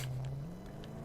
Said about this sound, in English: listen to the engine when you start up the car